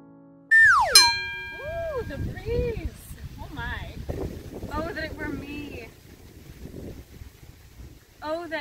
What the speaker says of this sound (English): Oh, the wind really wants to have a say in this.